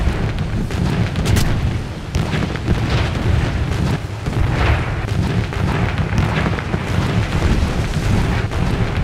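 Aircraft guns chatter in War Thunder during a German-plane dogfight, a dense rumbling barrage of bursts and booms that runs almost without pause at steady loudness.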